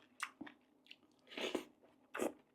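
Someone bites into and chews crisp banana stem served in Mon-style rice noodle curry, producing several close, wet crunching bites separated by quiet pauses.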